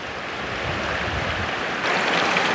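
Clear stream water rushes in a steady, loud, broadband flow near Khuna village in Samahni, with a slight surge near the end and no voices.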